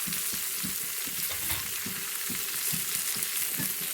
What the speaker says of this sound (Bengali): আমি পেঁপে আর আলুগুলোকে ভেজে নেব